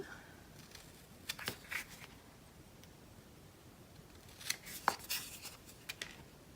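Scissors trim paper for a farmhouse-style craft piece: two short bursts of quiet, crisp snips separated by a pause, close and alone with no talking.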